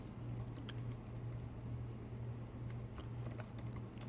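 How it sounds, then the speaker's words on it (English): Faint, quick clicks of a computer keyboard as a short word is typed, soft taps over a low steady background hum. "I'll type iPod."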